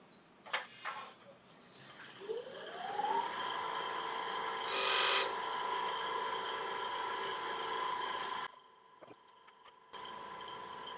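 Wood lathe cutting a recess into the bottom of a rotten log, its motor whine rising in pitch and then holding steady, with a brief harsh burst partway through, a short cutout, and then a resumed hum.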